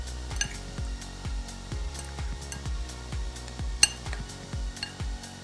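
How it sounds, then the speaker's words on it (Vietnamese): Fish salad (gỏi cá) being tossed in a bowl, a steady rhythm of soft thuds and clinks from utensils against the bowl repeating about twice a second, close and moderately loud, with no talk. "xong rồi mình trộn nó lên vừa vừa như thế này"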